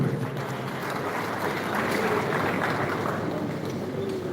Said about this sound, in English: Please have a round of applause again.